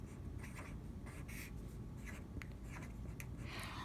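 Hand-writing a long division problem, 12 divided by 0.64, for dividing decimals: close, soft scratchy pen strokes come in short irregular bursts over a steady low background hum, with no talking.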